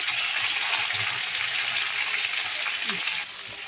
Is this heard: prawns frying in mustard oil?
yes